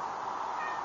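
An outdoor cat gives a single drawn-out meow, steady and clear at mid distance, with no talking over it.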